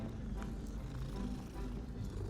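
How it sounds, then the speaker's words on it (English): A cat being petted in a video game purrs softly in a low, continuous rumble, faint and steady throughout without any talk over it. "Oh, a cat. Hey, little cat."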